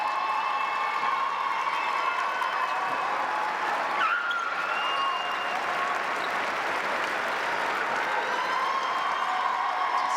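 Large crowd at a Minnesota girls' Class AAA high school basketball championship game cheering and applauding steadily throughout, a dense, continuous roar filling the arena with no break.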